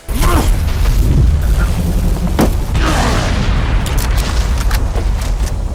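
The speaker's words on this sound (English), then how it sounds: "And he throws the grenade, boom, stalls Dark Daryl" A grenade blast in an animated fight scene: a loud, sustained booming rumble filling the clip, with a few sharper bursts and debris-like crackles layered on top.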